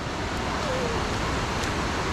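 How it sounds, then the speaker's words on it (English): A waterfall found while off-road quad biking in Ghana, heard as a steady, dense rushing roar that fills the whole clip without a break. "Waterfall is mad!"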